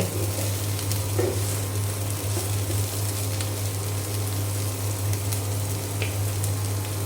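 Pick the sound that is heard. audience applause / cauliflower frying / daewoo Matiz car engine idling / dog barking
cauliflower frying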